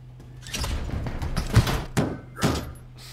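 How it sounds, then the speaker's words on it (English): Heavy pounding on doors in a Five Nights at Freddy's-style horror game: a few dull, thudding knocks and bangs in an uneven rhythm, close and moderately loud over a low steady hum. "I just love the pounding on the freaking doors."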